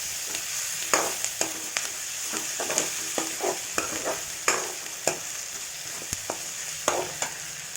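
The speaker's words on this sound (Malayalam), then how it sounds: "അതും ഒന്ന് വഴറ്റിയെടുക്കുക" Crushed pepper, ginger and garlic sauté with shallots in a pan for a tender jackfruit curry, a constant sizzle broken by repeated scraping stirs of the spoon, no voices.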